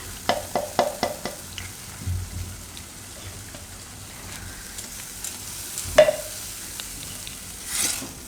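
Gravy poured into a hot pan for a Gujarati dum banana curry, several quick spoon taps, then soft sizzling and scraping stir strokes close up, with a louder clink near the end and no talking.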